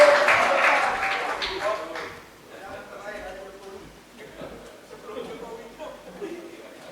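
An audience at a political gathering claps for a speaker, starting loud and dense and then fading within about two seconds as a voice speaks over the quieter room.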